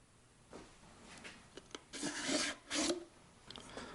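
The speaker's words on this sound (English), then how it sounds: "I just took out the empty grease tube, and now I will replace it with a nice brand new one" Plastic grease tube being swapped into a DeWalt DCGG571M1 20V MAX cordless grease gun, giving several quiet rasping scrapes and rubs, with two longer sliding pushes near the middle, close up with no talking.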